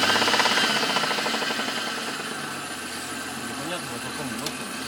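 Mitsubishi Diamante 6G73 V6 engine running with a steady rhythmic ticking knock from a valve, close and continuous under the idle drone, with a faint belt whine in the mix.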